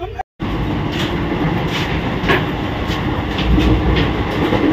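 The Garib Rath passenger train runs on rails on its way to Puri, a steady loud rumble with rhythmic clickety-clack wheel beats throughout.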